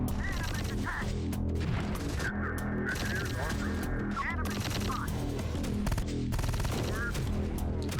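Gunfire in Terminator: Dark Fate Defiance, a military strategy video game, crackles as dense bursts and volleys under a constant battle din, with honking, whistling effects mixed in throughout.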